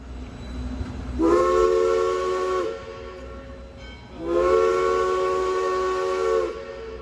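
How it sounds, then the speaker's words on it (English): A steam locomotive's Lonergan three-chime whistle sounds twice, each a long, loud, harmonious blast of about two seconds, separated by a short pause with faint hissing. "the engine still wears its Lonergan 3 chime, which is a quite unique and rare whistle"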